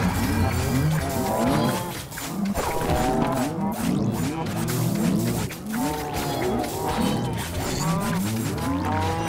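Cows in the video game Minecraft Dungeons moo repeatedly, several drawn-out lowing calls overlapping in a loud, continuous stream with no pauses of silence.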